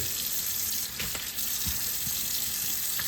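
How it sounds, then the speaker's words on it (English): Wild shark steaks rinsed under a running kitchen tap, water streaming steadily into a tray with a few splashy bursts, close and continuous. "I'm going to wash this steak"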